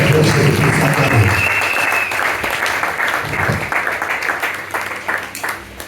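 A church congregation at a Sunday service breaks into loud, sustained applause and clapping, with scattered voices mixed in, before the clapping gradually thins and softens.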